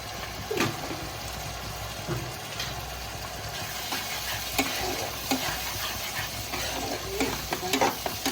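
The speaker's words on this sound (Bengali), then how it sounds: "গ্রেভিটা একটু ভাজা ভাজা করে নিই।" Paneer curry gravy seasoned with salt and sugar being stir-fried in a pan, a low sizzle under repeated spatula scrapes and knocks against the pan, close and uneven in rhythm.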